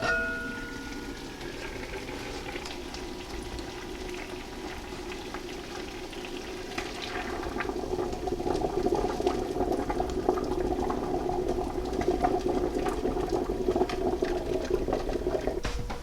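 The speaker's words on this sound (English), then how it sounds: "Canner is boiling away." A pressure canner of water boils steadily, a dense bubbling hiss that grows louder and rougher about halfway through, with no voices.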